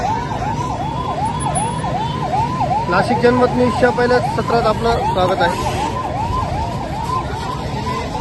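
A fire engine siren wails in a steady repeating rise and fall at a furniture shop fire in Indira Nagar, Nashik, loud and continuous while someone talks over it.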